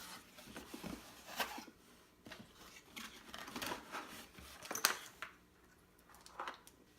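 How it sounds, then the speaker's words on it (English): A smart deadbolt lock package is being unboxed, giving soft, scattered crinkling, rustling and tapping of packaging and parts, quiet and close, with no talking. "What I'm going to do now is I'm going to unbox one of these to show you what's inside."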